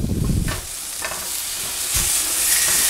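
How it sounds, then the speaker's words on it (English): White wine pear sauce sizzles and bubbles as it reduces in a hot pan beside seared chicken, a steady loud frying hiss broken by soft scrapes of stirring, with no voices. "Give it a stir. Let this reduce down a little bit more."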